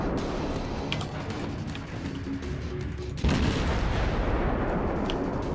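A cruiser firing naval guns in the video game World of Warships, with a dense rumbling battle din and a heavy boom partway through, carrying on loudly afterward.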